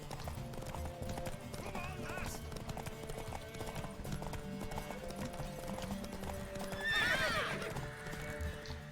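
In The Witcher 3, a horse's hooves clip-clop steadily beneath game music and character dialogue, and a loud neigh breaks through near the end.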